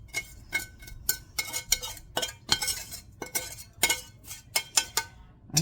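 A pan gets a stir fry tossed and stirred with a utensil, giving a run of close, irregular metallic clinks and scrapes with no talking.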